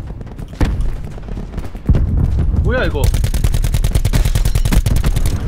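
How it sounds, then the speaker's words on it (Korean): Rapid automatic gunfire in Call of Duty: Black Ops 4 Blackout mode, loud and close bursts with a brief voice and other game sounds, followed by sustained fast shots. "왼쪽에 또 총소리 났어."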